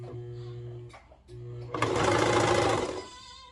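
Sewing machine stitching the seam of a handmade reversible toddler swimsuit, a steady loud mechanical whir running for over a second after brief motor hum and pauses, close up with no talk over it.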